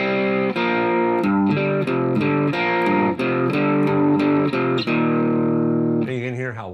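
Electric guitar with heavy distortion plays a song intro somewhat sloppily: a loud, continuous run of ringing chords and notes that ends in a wavering vibrato bend.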